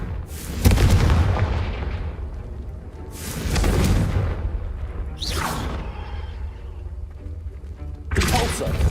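Confringo fire spells blast with heavy booming thuds and whooshes in the game Hogwarts Legacy, four loud bursts spaced a few seconds apart, with a voice shouting spell names.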